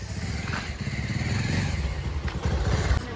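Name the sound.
motorcycle being ridden, passenger on the back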